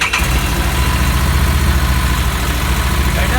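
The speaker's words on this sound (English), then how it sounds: "Right, let's hear this motorcycle now." A Harley-Davidson Street Rod 750 motorcycle idles close up, its engine giving a loud, continuous, throbbing low rumble that holds steady without revving.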